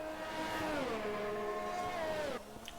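A scarlet Ferrari race car in a racing game at the Australian GP, its engine wailing loud and close, pitch sliding down under braking then cutting off abruptly near the end.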